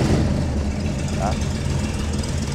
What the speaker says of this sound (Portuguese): A gente tem aqui uma marcha lenta de aproximadamente 500 RPM